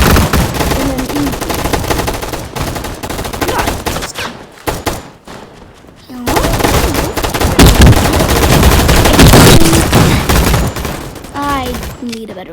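Rapid pistol gunfire in a video game gun fight arena comes as dense, loud bursts of shots that pause briefly and then resume, close and harsh.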